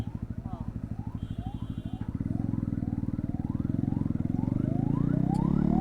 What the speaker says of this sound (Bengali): অ্যাম্বুলেন্স একটা গাড়ি ঘুরাচ্ছে